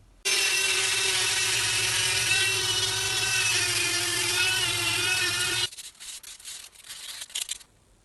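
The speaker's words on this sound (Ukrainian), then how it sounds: "Далі беремо шліфувальну помагу або бурмашину і зашліфовуємо ручку." A drill-driven sander grinds the glued-on handle of a small wooden machete keychain, a steady loud whirring rasp for over five seconds, then stops, leaving a few short bursts of bumping and handling noise.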